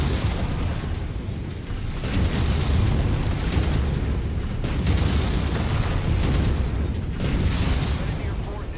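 Heavy explosions rumble through a battle between giant mechs in MechWarrior 5, a continuous roar of booms and debris lasting throughout, loud and dense with no pauses.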